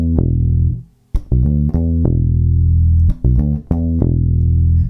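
A bass guitar plays a short melodic phrase of plucked notes, each ringing and decaying, with a brief gap before a quicker run of notes.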